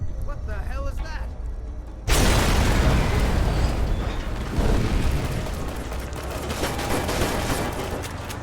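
A tank shell explodes in the game Fallout: The Frontier: after a quieter stretch, a sudden loud blast lands at about two seconds, followed by a long rumbling, crackling roar as debris settles and a voice speaks.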